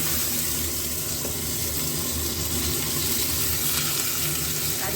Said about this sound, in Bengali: কারি পাতা আর পেঁয়াজ এবার এগুলো একটু ভাজা ভাজা হবে।